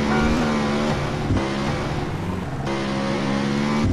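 Racing motorcycle engine in a video game, a steady loud drone with harmonic whine that shifts pitch slightly as the throttle changes, running continuously and close without any talk.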